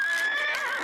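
A horse neighs in a single short, bright whinny, close and fairly loud, heard alone in a cartoon comedy scene.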